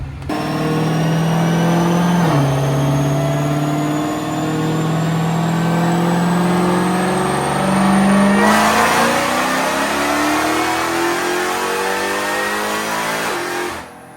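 A supercharged Hellcat engine on a dyno revs hard and climbs steadily in pitch over a long sustained full pull, with gear shifts, then cuts off abruptly at the end.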